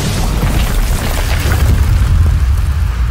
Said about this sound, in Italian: Gul'dan fece saltare via la porta con un'esplosione tonante